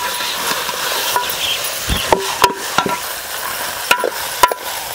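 Mutton seasoned with turmeric and salt being stirred in a pot over a wood-fired chulha, with soft scraping, light patter and a few sharp clinks of a utensil against the pot amid a faint sizzle.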